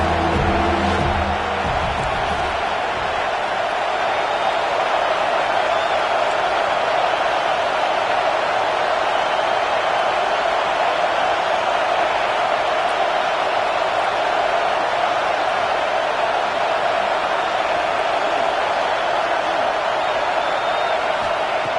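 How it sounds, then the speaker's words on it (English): Football stadium crowd during a USC game on third down, a dense, sustained roar of cheering and shouting that holds steady and loud for the whole stretch. "3rd down and the crowd really getting into it."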